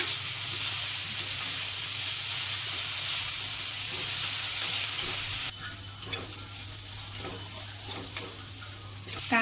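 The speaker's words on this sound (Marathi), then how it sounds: "कांदा थोडासा तळून घ्यायचा।" Chopped onion sizzles and fries steadily in a pan for poha, a dense continuous hiss with a low steady hum underneath; midway the sizzle briefly drops, then carries on with faint clinks of stirring.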